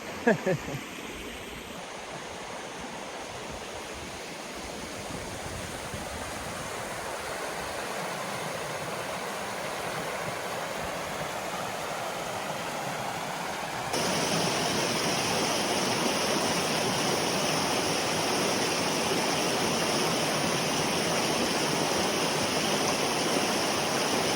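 Stanley Creek in the Rich Mountain Wilderness rushes steadily over rocks in winter, a dense continuous roar of flowing water that grows louder partway through, heard alone without speech.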